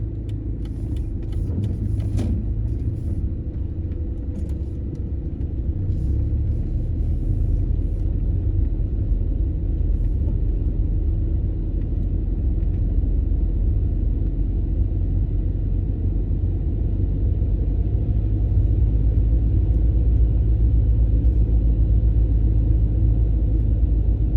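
A car on the road during a driving exam, its engine humming with a steady low cabin rumble that holds evenly throughout, close and fairly loud, with no clear speech over it.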